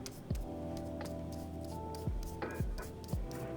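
Hands pat and rub a craft potion bottle being coated with Mod Podge, making soft close rubbing strokes and a few light taps against a steady low background hum.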